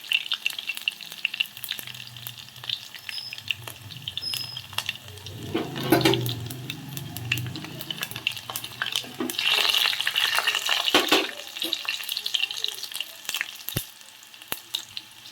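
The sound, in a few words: cumin and mustard seeds frying in oil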